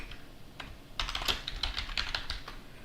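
Typing on a computer keyboard at a Fedora Linux workstation: a few isolated key taps, then a quick run of close, crisp keystrokes in an irregular rhythm, with no voices.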